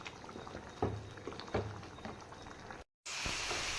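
Beef varatti simmering and reducing in a pan, a quiet, steady bubbling with soft pops and gurgles, briefly interrupted before the thick simmer resumes.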